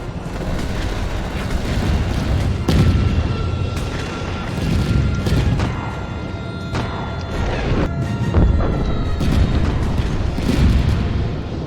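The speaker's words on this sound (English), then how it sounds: "these plasma shots, unlike the others, actually fire really quickly, as they've got fast projectile speed" Rapid plasma turret shots from a shoulder-mounted mech weapon in the game Mecha Knights: Nightmare, a dense run of loud, punchy bursts repeating every second or so over a constant rumbling game backdrop.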